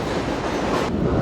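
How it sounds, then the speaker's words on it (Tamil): A train rumbles past in New York City, a loud, steady roar with clattering wheels that fills the whole stretch, with no voices over it. "பாதி நேரம் வந்துட்டு ஃபுல்லா வந்து இந்த ட்ரெயின் ஓடியே சத்தம் போட்டுட்டு இருக்குது"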